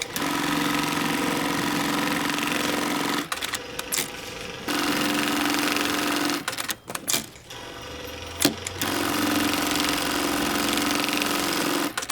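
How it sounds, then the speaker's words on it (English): A computerized sewing machine stitches a box X pattern through bag handles, a loud, close mechanical chatter running in long steady bursts separated by brief pauses and clunks, with no talk. "headed on over to the computer machine for a box X stitch right here on the handles"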